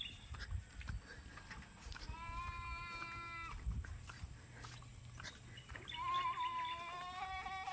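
Sheep bleat a few times at a farm in a rural province, the calls moderately close over a quiet outdoor background, with faint low noises and a brief voice-like murmur.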